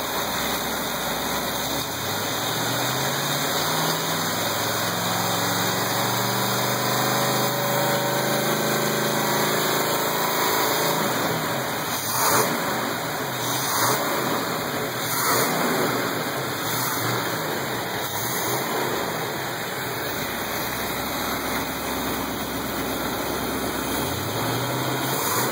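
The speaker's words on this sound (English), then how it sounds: "Of course, when we rev it up," A freshly rebuilt Chevrolet 350 V8 on its first run, running steadily near and loud with a low revving sweep early on, then settling into a constant idle with a faint whine over it.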